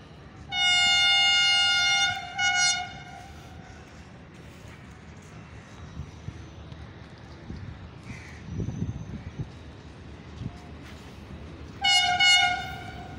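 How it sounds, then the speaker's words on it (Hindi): The 16 Down Karachi Express, led by an HGMU-30 locomotive, passes Malir Railway Station with a loud multi-tone horn blast at the start, a rumbling pass, and another horn near the end. "16 डाउन कराची एक्सप्रेस, जिसे लीड कर रहा है माई फेवरेट लोकोमोटिव HGMU 3082"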